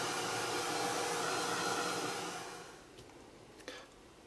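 A hair dryer blows steadily at close range to dry wet pink and brown paint on a moodboard, a loud broadband whoosh that fades out after about two and a half seconds, followed by faint handling clicks.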